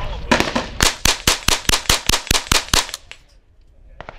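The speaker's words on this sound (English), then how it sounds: "10 rounds of 17 HMR as fast as you can pull the trigger." Savage A17 semi-automatic rifle in 17 HMR fired rapidly outdoors, about ten sharp, loud cracks in quick even succession, then quiet with a faint trailing sound.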